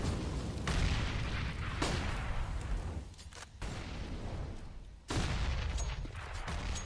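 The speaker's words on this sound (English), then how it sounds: "Loads of grenades." Grenades explode in a Counter-Strike match on the Inferno map: heavy booms in quick succession, with sharp blasts near the start and a loud one about two-thirds through, over a constant rumbling game din.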